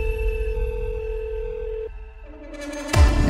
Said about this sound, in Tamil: திடீர்னு 10:30 ஒரு ஃபோனு.